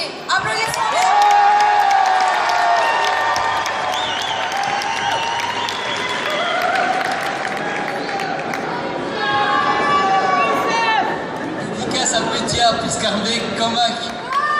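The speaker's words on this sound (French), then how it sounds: "Applaudissements." A large crowd applauds steadily, with cheering and whistles mixed in, the clapping swelling and continuing throughout.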